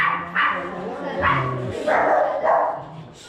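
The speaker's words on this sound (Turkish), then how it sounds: "köpekler yine her yerde" Dogs bark several times in short, sharp bursts on a street in Shiraz, Iran, fairly close, with a whiny yelp mixed in.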